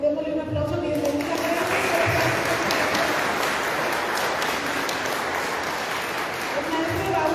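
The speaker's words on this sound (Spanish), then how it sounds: "Démosle un aplauso, bienvenida." An audience in a meeting hall breaks into sustained applause for several seconds, a dense wash of clapping with voices mixed in, then fading.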